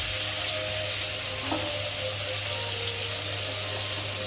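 Pumpkin and potato chunks fry in a pan with a steady, close sizzle over a low hum, continuing evenly and alone throughout.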